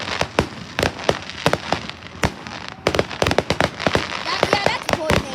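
Dense volley of fireworks explodes throughout a showcase, sharp crackling bangs and pops firing in quick irregular bursts, loud and close, with a voice talking faintly beneath the blasts.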